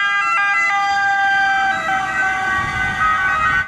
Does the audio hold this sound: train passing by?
no